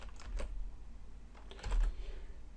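Typing on a computer keyboard, a quick run of key clicks near the start and another burst later, close and fairly quiet over faint room hum.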